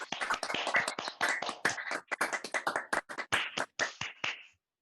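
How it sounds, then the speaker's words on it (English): Sparse, scattered claps follow a four-poem poetry performance at a cabaret, each clap sharp and separate with short gaps between them, as from a small audience, before fading to silence. "Let's give him a round of applause."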